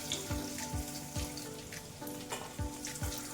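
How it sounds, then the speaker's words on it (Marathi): Paneer cubes frying in oil in a pan until golden, a steady close sizzle with soft pops and a few light clinks of a utensil against the pan, no talk. "हे बघा असं छान तांबूस रंग येईपर्यंत आपल्याला तळून घ्यायचे पनीर."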